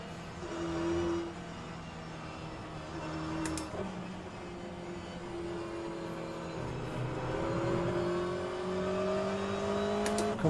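An Aston Martin GTE race car in rFactor2 laps Road Atlanta, its engine a steady, sustained drone that climbs gradually in pitch as it accelerates, with no other sounds over it.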